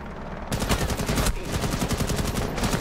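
Rapid automatic gunfire in Rainbow Six Siege rattles out in loud, dense bursts, close and continuous with a brief break near the middle.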